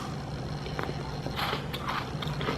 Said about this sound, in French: Donc tu croques un côté, un coin.